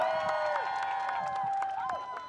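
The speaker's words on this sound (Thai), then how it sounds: "คุณโยพงศธรปรบมือดังๆคุณโยเป็นกำลังใจหน่อยแล้ว" Crowd at an outdoor by-election campaign rally applauding and cheering, a continuous patter of clapping over sustained background music, moderately loud and fairly distant.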